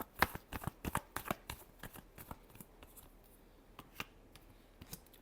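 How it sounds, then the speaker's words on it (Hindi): Tarot cards being shuffled during a Scorpio reading, a quick burst of crisp riffling clicks and flutters up close, then sparser scattered card taps fading out, with no talk. "Last shuffle."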